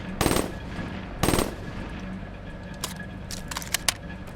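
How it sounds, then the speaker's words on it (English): A gun in Black Ops 3 fires normally in two short bursts of rapid shots, followed by scattered single shots and clicks, loud and close with no talking. "This is how the gun normally fires."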